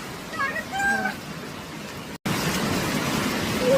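Rain falls beside a waterfall in a hidden outdoor spot, a broad steady wash of water noise. A voice speaks over it in the first half, and the rush continues alone after a brief cut.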